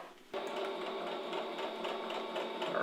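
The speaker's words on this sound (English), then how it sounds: "let's move ahead to the sewing machine." Sewing machine stitching a 1/4 inch seam on fabric strips for homemade double fold bias tape, a steady continuous mechanical whir that runs close and unbroken after a brief quiet start.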